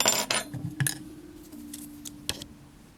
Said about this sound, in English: Sorry I bumped the camera there.